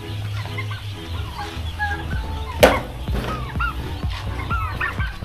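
A flock of turkeys calling, with overlapping gobbles and clucks at moderate distance, plus one sharp knock partway through.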